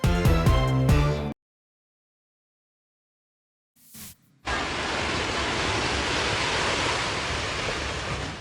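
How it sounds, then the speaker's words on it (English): A brief burst of music, then silence, then a long, loud rush of hundreds of roof tiles clattering and crashing down from a tower in China, pouring steadily without letting up. "That is the sound of hundreds of tiles tumbling from the roof of a tower in China."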